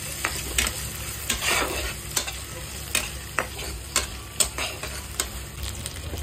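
Food frying in a pan with mutton fat, a steady sizzle broken by repeated sharp scrapes of a spoon stirring at an uneven rhythm, close and moderately loud, with no talking.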